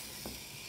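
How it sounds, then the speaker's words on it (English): Capsicum and mixed vegetables fry in a kadai, a brief soft sizzle with a quick stir scraping through it. "give a stir."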